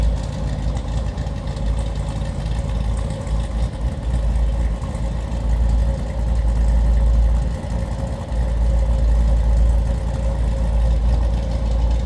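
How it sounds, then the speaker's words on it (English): A rebuilt V8 engine in a 2014 Jeep Grand Cherokee SRT idles with a steady, deep rumble and slight uneven pulsing, loud and close, with no other sounds over it. "as you can hear, this one's got a little bark. There's a rumble."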